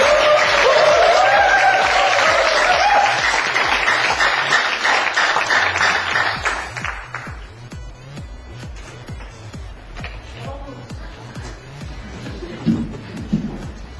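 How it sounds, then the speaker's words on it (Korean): An audience at a youth speech contest in Busan claps for the speaker, loud and dense for about seven seconds with a brief musical swell at the start, then fading into scattered claps and room shuffling. "박수 한 번만 더 주세요."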